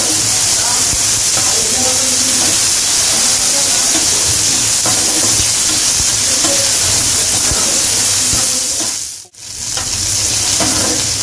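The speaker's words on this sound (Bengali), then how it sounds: "পেঁয়াজ কুচিয়ে রেখেছিলাম, পেঁয়াজটা দিয়েও আমি ভেজে নেব। রসুন আর পেঁয়াজ ভেজে নিয়ে" Chopped onion and garlic frying in oil, a steady close hiss and sizzle with faint stirring that runs throughout, dropping out for a split second near the end, with no talk.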